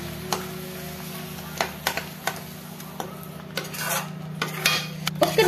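Two medium tomatoes' worth of puree stirred into chicken curry masala in a pan, with a spoon scraping and clinking against the metal in irregular taps and rubs over a steady low background hum.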